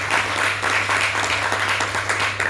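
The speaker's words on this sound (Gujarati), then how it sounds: "એકવાર જોરદાર તાળી બતાવો." A large crowd claps steadily at a Gujarati folk dayro program held at a Swaminarayan temple in Melbourne, a dense, even wash of applause over a low hum throughout.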